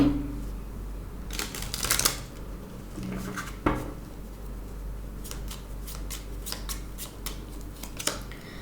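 Tarot cards are shuffled and drawn up close, with clusters of sharp riffling snaps and flicks scattered over a low steady hum and no speech.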